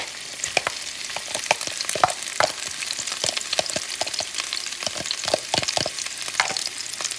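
Crab meat for a crab dip is stirred and mixed in a pan, making a steady sizzle with frequent sharp scrapes and taps of the utensil, close and fairly loud.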